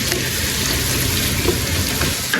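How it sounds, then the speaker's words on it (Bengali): Spice masala with chili powder sizzles steadily in a pan while being cooked down for a small-fish dish, a close, continuous frying hiss with no talk. "মশলাটা একটু কষিয়ে নিতেছি"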